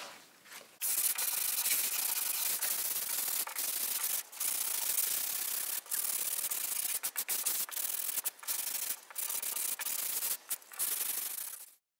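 Hand sanding of a wall coated over old wood paneling, a dry, hissing scrape repeated in long strokes with brief pauses between them, close and steady with no talking.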